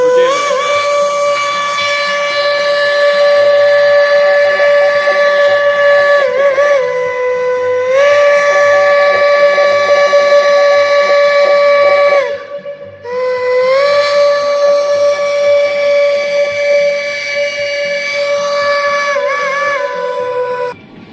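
Steam train whistle on the Cass Scenic Railroad in Cass, West Virginia, sounding long, loud sustained chime blasts with a brief break near the middle, alone without talk.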